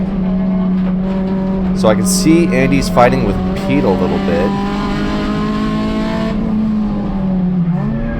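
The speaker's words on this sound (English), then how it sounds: "You can hear the gearing in the car, still a little messed up" A touring race car at Laguna Seca, its gearing slightly off, holds a loud, steady close engine drone with brief revving bursts and gear changes, while other cars pass and someone talks over it.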